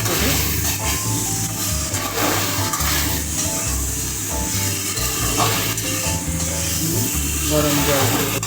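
Chili chicken with onion pieces sizzles and hisses in a hot pan as it is stirred, a steady frying crackle with scraping strokes running throughout, loud and close.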